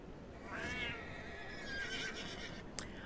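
A horse whinnies in a video game, with a rising then falling neigh of about two seconds over a quiet, noisy background, followed by a brief sharp click.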